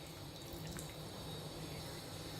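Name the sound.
water being poured into eggplant curry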